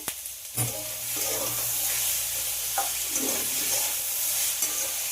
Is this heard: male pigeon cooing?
no